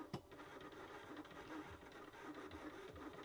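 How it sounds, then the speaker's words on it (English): A Liene PixCut S1 sticker printer and cutter works its blade around each sticker, giving a soft, continuous mechanical whir with small ticks and clicks, fairly quiet and steady with no voices. "now the little cutter is going to cut each individual sticker all the way around it"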